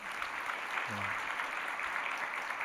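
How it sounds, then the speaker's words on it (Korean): An audience in a church worship service applauds to welcome a new member: a steady, continuous wash of many hands clapping, moderately quiet and distant, with only a brief murmur of voice. "큰 박수로 환영하겠습니다"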